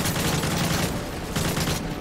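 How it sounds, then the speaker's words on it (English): Dense, continuous gunfire in the video game Call of Duty Modern Warfare 3, a sustained rattle of rapid shots filling the scene with no voices heard. "Who's shooting me, man?"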